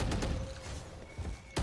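Gunfire in a Valorant match: a few sharp bursts of shots, loud and close, with quieter game noise between them and one last abrupt burst at the end.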